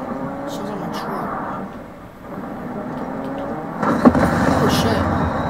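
Vehicle tires rolling along a road in the video game Fortnite: a continuous rumbling drive that dips briefly then swells louder, with voices faintly underneath.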